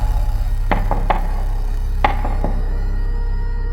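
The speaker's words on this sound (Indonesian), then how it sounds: "Ketukan itu terdengar lagi." Several sharp knocks on a wooden front door late at night, in two quick bursts of three, close and distinct over a steady low background hum.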